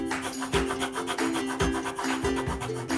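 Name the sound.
eraser rubbing off pencil lines on paper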